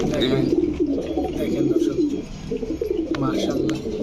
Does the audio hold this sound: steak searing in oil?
no